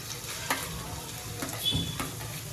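Ginger and chilies fry in hot oil with pepper powder for a Chinese-style moong dish, a steady close sizzle broken by occasional stirring scrapes, with no talking.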